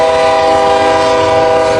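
A northbound manifest freight train rolls past on the Sioux City Sub in Fremont, Nebraska, with a loud, sustained horn blast over continuous rumbling rail noise.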